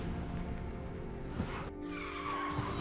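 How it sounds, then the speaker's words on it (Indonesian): A car brakes suddenly, its tires skidding and squealing briefly against steady road and engine noise inside the vehicle. "Kenapa ngerem mendadak begini?"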